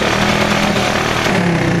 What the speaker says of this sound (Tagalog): Kung narinig nyo guys, palyado talaga.